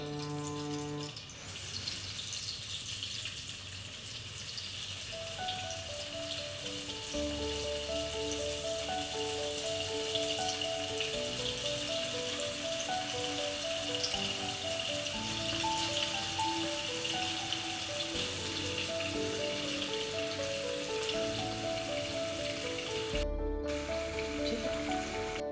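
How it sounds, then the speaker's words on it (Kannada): Paneer frying in hot ghee in a home kitchen gives a steady, soft sizzle that runs the whole way through, set beneath continuous melodic background music. "ಈಗ ನಾವು ಪನ್ನೀರನ್ನು ಹುರ್ಕೊಳ್ಳೋಣ ಮೊದಲಿಗೆ."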